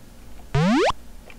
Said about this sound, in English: that little sound is the sound of the crystal recharging